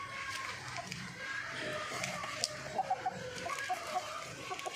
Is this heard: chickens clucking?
yes